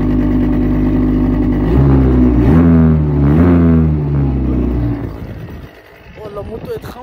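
A motorcycle engine runs at idle and revs, a loud low droning rumble with rising and falling pitch swells, close by and fading near the end.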